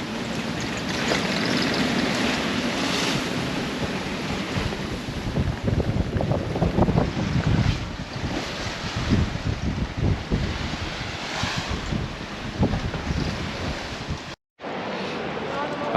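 Steady sailboat engine drone with gusty wind buffeting the microphone, water rushing alongside; a brief dropout near the end before the noise resumes.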